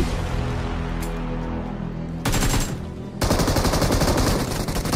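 Video game gunfire crackles in continuous rapid bursts, loud and near, with the firing growing denser and harsher after a short pause, and no voices over it.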